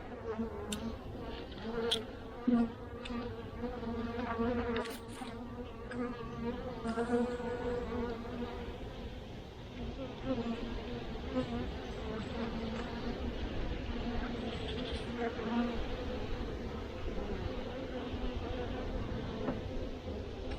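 Honey bees buzz thickly and steadily from an opened hive during an inspection, a close, continuous drone with a few light knocks and handling sounds.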